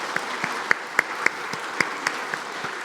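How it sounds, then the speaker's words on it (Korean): A congregation at a Korean church Sunday service claps in unison, giving fairly quiet, evenly spaced beats about three per second with a soft room wash under them. "우리 감사의 박수 드리겠습니다."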